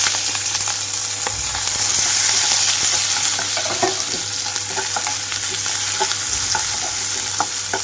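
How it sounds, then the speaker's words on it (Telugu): Curry leaves, onions and green chillies frying in a sizzling tempering for a cabbage, potato and green pea fry, a dense close sizzle with crackling pops and stirring scrapes throughout, no talking. "ఇక్కడ తాలింపు అంతా చిటపటమని వేగేటప్పుడే ఇందులోకి కరివేపాకు, అలాగే ఉల్లిపాయలు, పచ్చిమిరపకాయలు కూడా వేస్తున్నాను"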